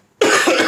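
A single sharp, close cough bursts out after a brief silence, loud and husky, trailing into a short rasp.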